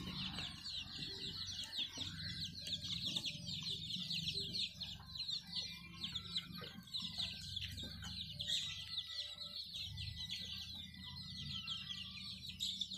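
Local village chickens cluck and chatter steadily at a low, soft level, with a continuous flock murmur and no speech.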